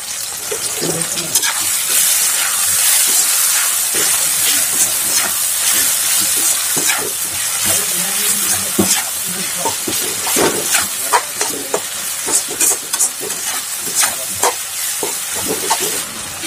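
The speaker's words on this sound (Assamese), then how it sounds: "বিলাহীখিনি একেবাৰে কমি যোৱালৈকে ভাজিম হা, তেতিয়াহে খাই ভাল লাগে" Tomatoes seasoned with turmeric and salt fry in a pan, giving a steady, close sizzle with bright crackling and occasional stirring scrapes throughout, no talk.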